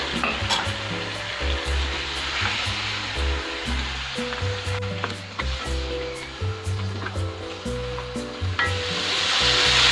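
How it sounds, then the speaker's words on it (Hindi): Chicken, about a kilo, frying in a pan for achar gosht, a steady loud sizzle with stirring, under continuous background music and no voices. "चिकन को हम पकाएंगे कलर चेंज होने तक"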